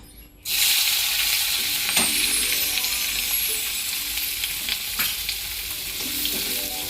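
Onion and green chilli hit hot oil in a pan for a Bengali fish egg curry, bursting into a loud, steady sizzle after a brief quiet start, with a few sharp scrapes of a spatula stirring through.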